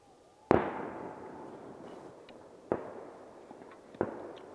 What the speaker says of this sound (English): listen to the fireworks